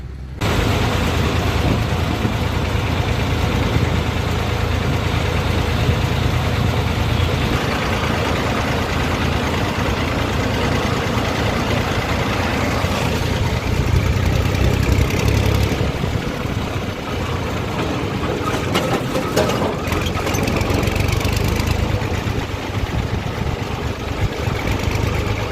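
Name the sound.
tractor engine idling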